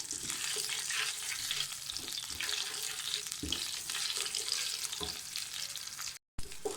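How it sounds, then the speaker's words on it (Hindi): A dried red chili and a curry leaf frying in hot oil for a moong dal tadka give off a steady, dense sizzle with soft stirring scrapes, close and continuous, with no talk. "एक सुरख मिर्च डाल दें। इसको फ्राई कर लें।"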